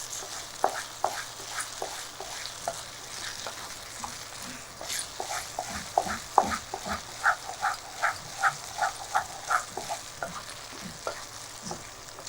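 Sojji being stirred in ghee in a pan, a close, continuous sizzle punctuated by a rhythmic series of soft scraping and slapping strokes that grow more regular toward the end, with no voices.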